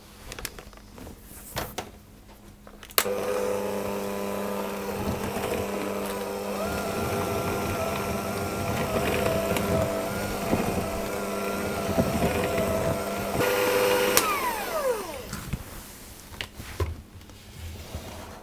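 An electric mixer beats flour into a cookie dough for Italian hazelnut biscuits, a steady mid-level motor whir that starts abruptly and runs continuously before winding down near the end.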